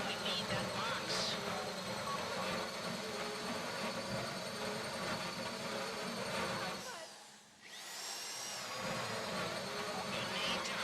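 A drill grinds into a deposit box during a Fleeca bank heist in Grand Theft Auto V, a steady whirring drone that dips briefly before resuming, with voices talking over it.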